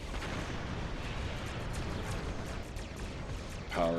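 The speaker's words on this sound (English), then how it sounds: "Power up the torpedoes, and I missed both." Starship torpedoes firing during a space battle in the Star Trek Online video game, heard as a dense, continuous rumble of booming weapon blasts and explosions at steady loudness, with a short tonal chime near the end.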